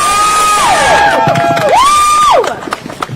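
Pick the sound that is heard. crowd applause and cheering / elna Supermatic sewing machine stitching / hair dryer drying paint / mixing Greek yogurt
crowd applause and cheering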